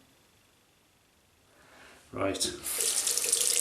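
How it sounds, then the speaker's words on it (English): Water runs from a tap into a sink while shaving, starting after a quiet moment and then flowing steadily and loudly close by, with a brief spoken word. "It's running, it's dripping out the tap and I just dip it in."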